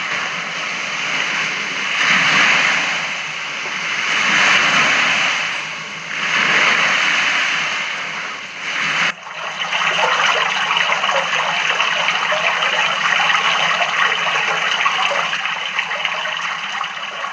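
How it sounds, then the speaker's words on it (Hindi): Sea waves roll in as broad, washing surges that swell and fade several times, then settle into a steady, continuous roar. "समंदर के लहरों की आवाज़"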